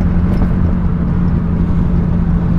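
A car's engine drones steadily and loudly from inside on its first drive, a rough, uneven low rumble that runs poorly before the boost comes on, with no talk over it.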